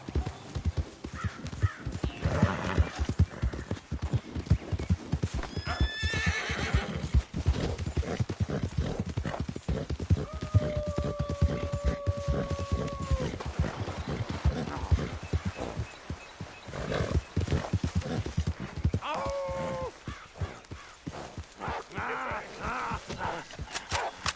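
Galloping horse hooves in a PS5 video game clip-clop in a steady, continuous rhythm, with a few brief whinnies and cries mixed in over the hoofbeats.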